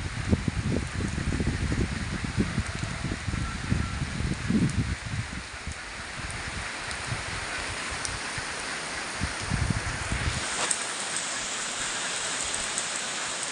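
Wind gusts through leaves on a rainy morning, a dense rustling hiss with rain pattering, stronger at first and settling into a steadier soft wash.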